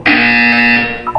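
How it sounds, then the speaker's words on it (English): A single loud electronic buzzer in the Portal video game sounds as one steady, harsh tone lasting about a second, with nothing else around it. "When you hear the buzzer, look down at the floor."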